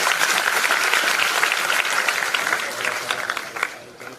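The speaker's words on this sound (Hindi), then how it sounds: "अच्छा तो ताली बजाओ ना फिर" A crowd claps at a railway station, a dense burst of applause that starts loud and gradually thins out, with some voices mixed in.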